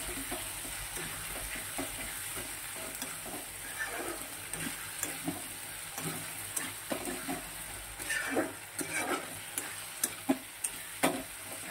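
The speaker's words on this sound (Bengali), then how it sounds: "মশলাটা খুব ভালো করে কষিয়ে নিই।" Spice paste of ginger-garlic paste, ground cumin and salt sizzles steadily in a pan, with a spoon scraping and stirring in frequent clicks, close and continuous, with no talking.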